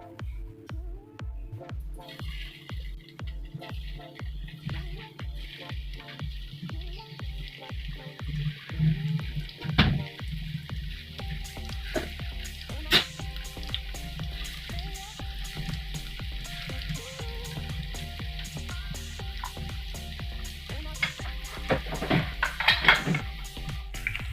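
Koftas frying in about half a cup of hot oil in a frying pan, a soft continuous sizzle with frequent small crackles and pops, plus occasional clinks of a utensil against the pan.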